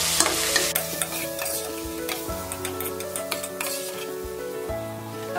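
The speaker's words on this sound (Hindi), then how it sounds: "गरम मसाला पाउडर, धनिया जीरा पाउडर, ये सॉल्ट मिक्स कर देते हैं।" Garam masala, coriander-cumin powder and salt are stirred in a hot pan for a green moong curry, a steady scraping stir over soft sizzling with repeated spoon taps against the metal, and nobody speaking.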